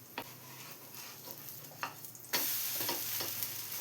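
An oothappam sizzles in a hot pan after being flipped, a soft frying crackle with a few light scrapes and taps, then the sizzle jumps louder and stays steady to the end.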